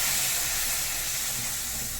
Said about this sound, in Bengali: তারপরে আবার নেড়ে দিবে।